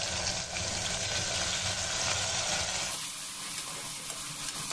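Chopped onions frying with spices in a pan for a mutton drumstick curry, a steady close sizzle with stirring that softens after a few seconds.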